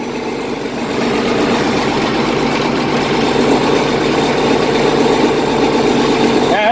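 IH 1586 tractor engine idling after a cold start following two months of sitting, a steady, loud, rumbling idle that rises slightly in level after the first second and then holds even.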